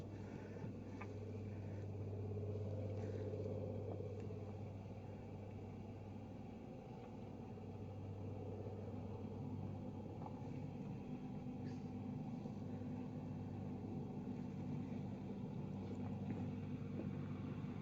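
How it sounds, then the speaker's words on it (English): A tour bus engine idles steadily at a river in Katmai, Alaska, a constant low rumble running throughout at moderate distance, with faint outdoor ambience over it. "So if you're wondering what the engine idling happens to be, that's that bus."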